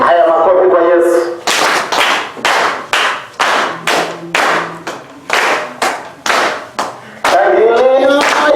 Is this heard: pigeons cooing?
no